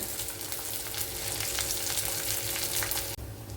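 Rasam ingredients fry with curry leaves for Kerala mulaku rasam, a dense, continuous close sizzle with faint stirring that cuts off abruptly near the end.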